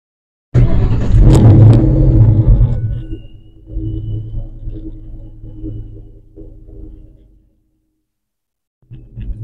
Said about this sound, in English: hopefully the other microphone is picking up the exhaust